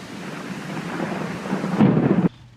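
A thunderstorm with a steady wash of heavy rain and a deep rolling rumble of thunder that swells near the end, then cuts off abruptly.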